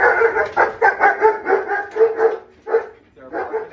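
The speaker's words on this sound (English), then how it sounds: "They're barking at absolutely nothing." Several dogs bark in repeated bursts, fairly close and loud, mixed with yips and a voice now and then, in an indoor home setting during a grapevine wreath craft session.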